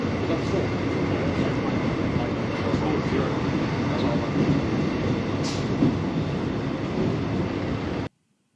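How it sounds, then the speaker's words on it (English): A train rumbles steadily through a station, with a constant loud roar of wheels on rails and faint squeals, ending abruptly. "The train is now passing through Bell Station, going in the opposite direction, towards the city."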